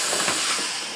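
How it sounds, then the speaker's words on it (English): Air rushes in with a loud, steady hiss as the vacuum bag of a cold-press wood veneering setup releases its suction after the pump is switched off, close by and alone. "You can hear the suction going off."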